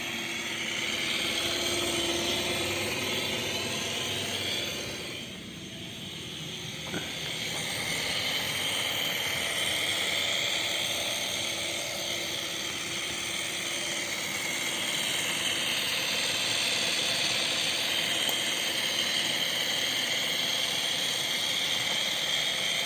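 A partially restored Willamette Régner live steam radio-controlled locomotive runs hauling a log train, giving off a steady hissing, whirring mechanical drone that dips briefly partway through and then carries on continuously, with no voices.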